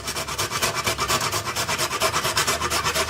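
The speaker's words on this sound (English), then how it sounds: "This is a microplane grater." Nutmeg being grated on a microplane grater for pumpkin pie, a steady rhythmic rasping of quick back-and-forth strokes, close and fairly loud, with no talking.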